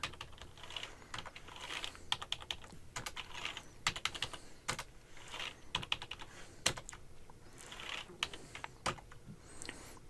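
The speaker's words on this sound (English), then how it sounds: "Give her a password. Got to type it again." A password is typed on a computer keyboard, an irregular run of close, crisp key clicks in quick clusters with brief pauses, with no talking.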